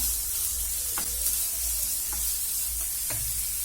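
Samosa filling of onion, carrot and green peas being sautéd in a pan: a steady, close sizzle with occasional scrapes and taps of a stirring spoon, and no voices.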